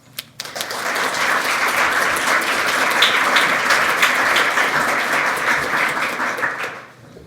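An audience at a behavioural-insights talk gives sustained applause to welcome Professor Betsy Levy Paluck, a steady wash of many hands clapping that swells quickly, holds for about six seconds, then fades out.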